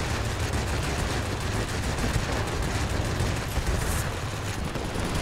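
Aircraft guns fire in World of Warplanes as a dense, continuous rattle of rapid shots, loud and unbroken, with a heavy low rumble running through the whole burst.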